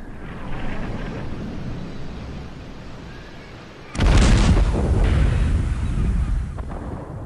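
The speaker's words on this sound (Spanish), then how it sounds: "Los ingleses empiezan a disparar contra el castillo de Paso Alto" Cannon fire from British artillery shelling the Paso Alto castle during the Battle of Tenerife: a low rumbling bed, then a sudden loud blast near the midpoint that rolls on as a sustained, booming roar.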